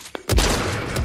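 A pistol fired rapidly in the video game Fortnite: a sharp loud burst of shots hits after a brief quiet moment and rings on through the rest of the second-long moment, with no voices.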